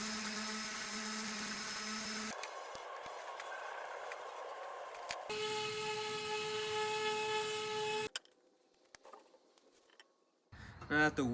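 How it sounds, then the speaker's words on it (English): Scuff sanding on the wooden underside of a 1980s desk under restoration, a steady buzzing and rasping power sander in close-up that shifts in pitch between passes and then stops, with music underneath. "I decided to scuff sand the bottom as it was going to be painted"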